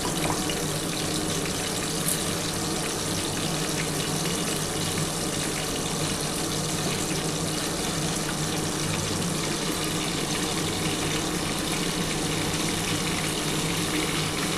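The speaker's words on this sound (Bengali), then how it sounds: "এর মধ্যে সামান্য অল্প একটু জল দিয়ে ঢেলে দিচ্ছি।" A little water poured into hot oil holding garlic-ginger paste in a pan makes a loud, steady, rushing hiss that continues unbroken throughout, with no talking.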